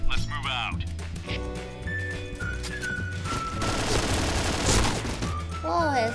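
AUG rifle gunfire in a shooting video game: rapid bursts of shots over in-game whistling tones and effects, with the volume building toward the end.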